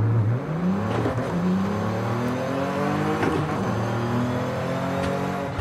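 A Volkswagen Golf in Forza Horizon 5 accelerating hard, its engine note climbing repeatedly through the gears in clear rising sweeps, loud and close with no talking.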